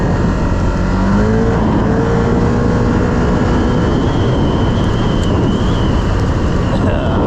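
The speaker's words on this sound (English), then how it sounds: "Man, I love the way that engine pulls." A 2025 Can-Am Outlander XMR 1000 ATV engine accelerates hard in a loud, close, sustained roar, with rising engine tones that climb early on and a continuous rumble throughout.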